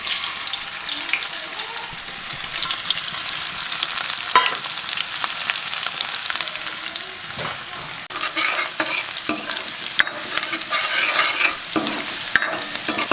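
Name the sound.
onions frying in oil in a steel kadai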